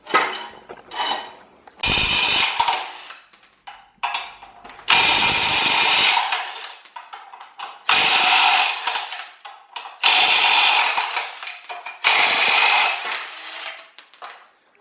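An impact gun takes bolts off during an RB20 engine teardown, with the torque converter and flex plate coming away, in repeated loud, close, rattling bursts of about a second each, separated by short pauses and small clanks.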